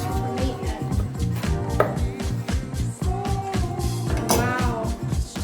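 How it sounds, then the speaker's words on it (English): A knife saws through a slice of homemade focaccia bread with repeated rhythmic strokes and crunchy scraping, close and fairly loud, while faint music plays underneath. "And now let's cut a slice from the end."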